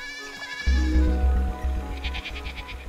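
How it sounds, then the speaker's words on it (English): Sheep bleating in the meadow of the video game Sword & Sworcery, a few repeated tonal bleats over a steady low game music drone. "We spied a few worthless sheep lazing around the meadow."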